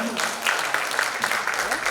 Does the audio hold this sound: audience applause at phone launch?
yes